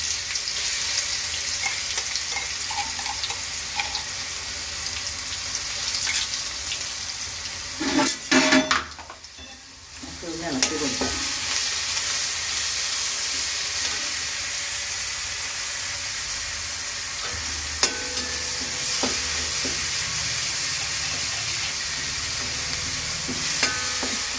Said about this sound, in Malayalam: കടുക് പൊട്ടി കഴിഞ്ഞിട്ടുണ്ട് ചതച്ച് വെച്ചിരിക്കുന്ന വെളുത്തുള്ളിയും ചുവന്നുള്ളിയും ഇട്ട് കൊടുക്കാം